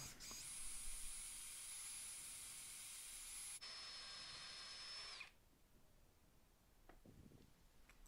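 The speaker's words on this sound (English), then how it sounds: "then I can drill a pilot hole" A power drill whines loudly at high speed for several seconds drilling a pilot hole in scrap wood, changes pitch, then stops, leaving quiet room noise with a couple of faint knocks.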